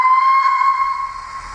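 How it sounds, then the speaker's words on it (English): A steady, shrill steam whistle from a Hawthorn Leslie model locomotive's DCC sound decoder sounds close and loud for over a second, then trails off. "let's have a little listen to a couple of the whistles then"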